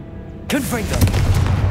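A Confringo blasting spell explodes in the Hogwarts Legacy wizarding game, a sudden loud burst with crackling magical whooshes that rings out and tails off into a sustained rumble.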